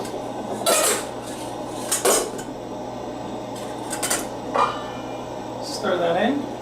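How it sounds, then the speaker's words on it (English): Boiled lentils and a tin of chickpeas go into a pot of Moroccan harira soup, giving a few scattered metallic scrapes and clinks of a spoon or tin against the pot, with a steady hum beneath. "I'm gonna add on the boiled lentils with 1 tin of chickpeas."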